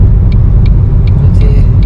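Car driving on a rural road, a steady loud rumble of engine and road noise filling the whole clip, close to the listener, with a few faint short ticks above it.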